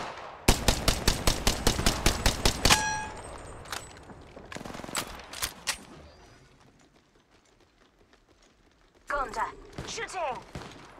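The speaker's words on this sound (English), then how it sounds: "Shooting!" Automatic gunfire from the video game Apex Legends: a rapid burst of about a dozen loud, evenly spaced shots. Scattered single shots and clattering game effects follow, then a quick flurry of chirpy, sweeping sounds near the end.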